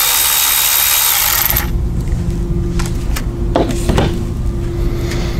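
Power tool zipping out the 8mm bolts from the airbox top on a Dodge Challenger or Charger Hellcat, a loud close whir for under two seconds followed by clinks and handling noise.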